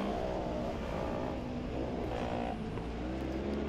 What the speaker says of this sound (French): Meilleure traction du dernier virage pour Cartel qui prend quelques mètres sur Genten qui revient au freinage